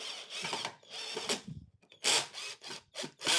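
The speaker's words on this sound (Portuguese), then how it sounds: "E só parafusar." A 4 mm by 3 cm screw is driven into the wooden frame of an acoustic panel, giving several close bursts of drilling and grinding that start and stop with short pauses between them.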